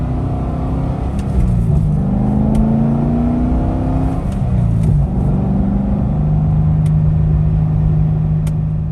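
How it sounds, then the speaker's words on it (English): A Chevrolet C6 Corvette engine revs up through rising pitch sweeps, shifting and climbing again, loud and close with a deep, throaty rumble. "You could really kind of get into the throttle and the car would ramp up."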